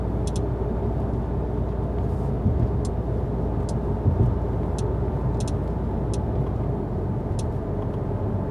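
Steady low rumble of a 2019 Mercedes A-Class engine and tyres while driving in snowy traffic, continuous and even from the cabin, with faint intermittent high ticks over it.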